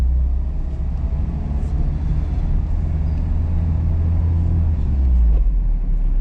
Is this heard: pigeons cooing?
no